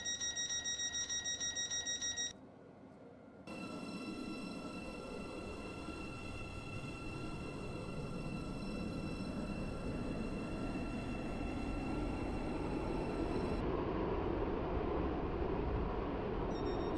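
Train running in the Roblox game Stepford County Railway, a steady electric motor hum and rolling rumble that builds gradually, with high whining tones on top and a brief dip near the start.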